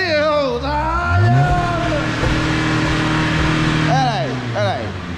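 A BMW 320 with a stage 1 downpipe and hardcut revs hard up close, its engine note climbing and falling in loud sweeps, with voices shouting over it.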